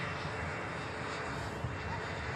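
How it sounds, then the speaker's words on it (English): An airliner rolls for takeoff at Manchester Airport, a steady, broad engine roar heard from a distance, constant in level throughout with no voices over it. "I guess it's on the takeoff roll"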